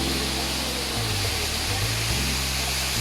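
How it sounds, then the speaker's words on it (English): Kanto Lampo Waterfall in Bali roars as a steady, loud broadband rush of falling water, continuous and close with no other sounds standing out. "let's enjoy the beautiful of Kanto Lampo Waterfall"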